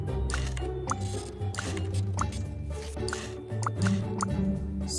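Water pattering and dripping onto garden plants while they are watered in Desperate Housewives: The Game, a steady wet trickle with soft repeated drips under a low background hum.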